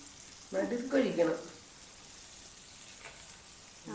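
Unniyappam batter frying in boiling oil, a soft sizzle that swells briefly when batter hits the pan, then settles into a faint crackle.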